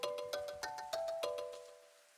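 In the video game Madoka Magica Magia Exedra, a phone rings with a quick run of bright chiming tones that repeat rhythmically, then fade out as the ringing dies away.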